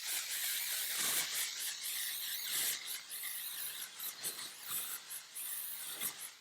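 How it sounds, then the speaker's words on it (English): Aerosol foundation sprayed in several short hissing bursts, a steady close spray broken by brief pauses, with no talking. "It's an aerosol, so I'm always going to shake it, and I'm always going to hold my breath when I spray it"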